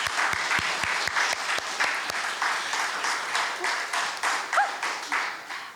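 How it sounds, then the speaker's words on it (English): Steady audience applause at a storytelling and poetry open mic, many hands clapping at moderate volume with a few sharp individual claps early on, continuous for several seconds. "I want to give a very warm round of applause to thank the Arts Council of Princeton"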